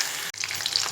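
Garlic hitting hot oil in a home kitchen sizzles briefly, a bright steady crackle with a short drop midway, close and alone.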